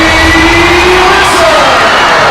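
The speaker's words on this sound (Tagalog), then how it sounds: "Naririnig niyo po ang sigawan." A Philippine pro basketball arena crowd at an Alaska versus San Mig Coffee game roars and shouts loudly and continuously, with a sustained tonal yell rising over the dense cheering.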